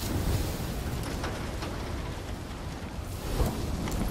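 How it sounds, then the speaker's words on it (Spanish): Steady rain in the Call of Duty Infinite Warfare game, a dense continuous hiss with a low rumbling undertone, loud and unbroken throughout with no voices. "¿Eso es lluvia, señor?"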